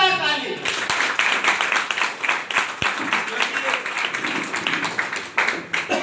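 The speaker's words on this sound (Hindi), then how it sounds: "एक बार आप लोग के लिए जोरदार ताली।" An audience claps loudly and steadily at an event, a dense rapid patter of many hands that swells after the first moment and keeps going throughout, with voices heard faintly beneath.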